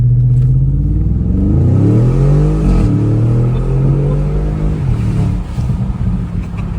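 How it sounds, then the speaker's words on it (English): Audi S6 fitted with a 034 Motorsports X pipe exhaust, revving loudly up and down in a deep, close engine roar that rises, holds, then falls away. "The exhaust."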